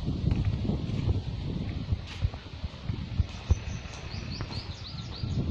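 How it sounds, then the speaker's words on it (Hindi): Scattered bird chirps and tweets over light wind and rustling, with faint knocks and a few sharper calls near the end. "पक्षियों के कोलाहल की आवाज़ें सुनाई दे रही है"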